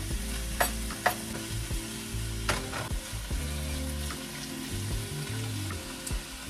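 Cubed chicken breast frying in olive oil in a pan at home, a steady close sizzle with occasional clatters and scrapes of stirring throughout.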